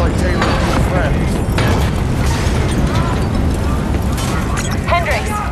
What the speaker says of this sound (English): we have multiple explosions across the facility